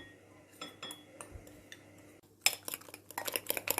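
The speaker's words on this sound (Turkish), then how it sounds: "Sucuklar fırında pişerken yumurtayı güzelce çırpalım." Eggs being whisked in a bowl with kitchen utensils, giving rapid, close clinking and tapping strokes that speed into a busy burst of scraping clatter toward the end.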